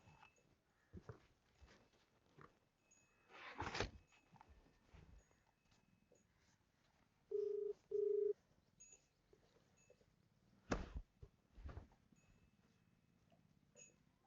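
A phone call is dialed and rings through: two short, steady electronic tone bursts in the middle, framed by scattered clicks, thumps and faint background noise, with no talking.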